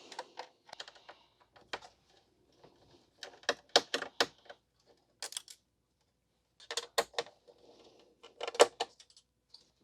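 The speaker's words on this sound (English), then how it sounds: "so we'll unscrew this one." A screw is backed out of the rear shield on a Gateway ZX4800 all-in-one computer, giving close, dry clicks and ticks in short irregular bursts separated by quiet gaps.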